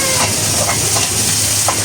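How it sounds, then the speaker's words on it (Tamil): Garlic sautés in a pan with a loud, dense sizzle that fills the whole short moment, with faint stirring scrapes and no talking. "உள்ளியை மட்டும் வதக்குவோம்"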